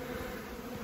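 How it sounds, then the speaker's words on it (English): Honeybees buzz around the site of a hive removed from a condemned building, a brief, steady drone of many wings close by with no voices. "As much as I'd love to catch all these other bees flying around, it's just not going to happen."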